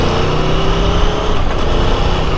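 Aprilia Tuono V4 Factory hyper naked motorcycle, a roughly 180 bhp V4 with a quick shifter, running under power with a loud, steady, close engine roar throughout.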